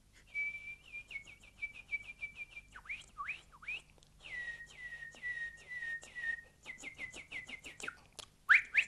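A man whistles a mimicry of nightingale song close up: a run of rapid trills and chirps, then sliding swoops and a long steady warbled note, broken by short pauses and ending in sharp bright peeps.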